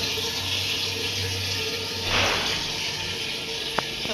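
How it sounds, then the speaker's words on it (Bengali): Tap water runs steadily into a cooking pot being filled for rice, a constant close rushing flow with a brief louder gush midway and a small clink near the end. "ভাতটা চাপাই দেবো জলটা ভরুক"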